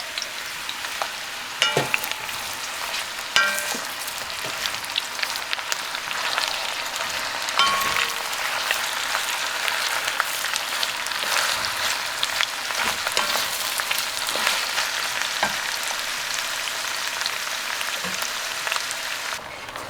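Chopped onion frying in hot oil in a pan, a steady broadband sizzle with crackling pops running throughout, fairly loud and close with no talk.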